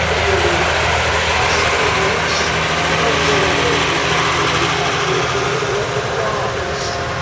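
A steady, rumbling engine of a British Ransomes crawler tractor in a vintage show parade runs continuously at close range, with a low throbbing vibration throughout and no break in the sound.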